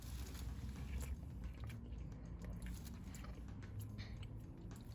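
Close, quiet biting and soft chewing on thick, soft chip-shop chips from a fish bar comes as irregular small crunches and squishy mouth sounds, with no speech.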